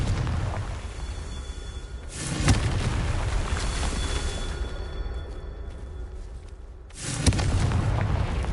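A Confringo fire spell bursts in Hogwarts Legacy, two heavy booming explosions several seconds apart, each with a sharp crack and a rumbling low tail under a steady game backdrop.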